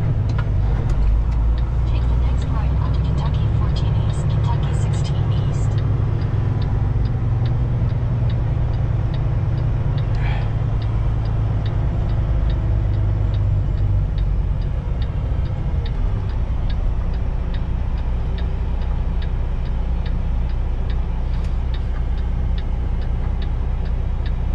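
A semi truck driving on seven axles along the road, a continuous loud low engine and road rumble with a steady ticking, like a turn signal, running through it.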